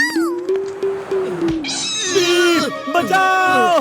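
Cartoon cat meowing and yowling in a chase scene, several rising and falling cries close and loud, mixed with animated character voices.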